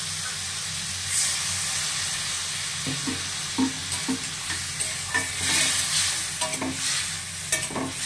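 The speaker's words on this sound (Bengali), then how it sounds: "এবার জল দিয়ে দিয়ে কষাবো" Spice masala for a small puti fish curry with potato, brinjal and beans is sautéed in a pan with splashes of water, a loud steady sizzle and hiss with repeated spatula scrapes and knocks throughout.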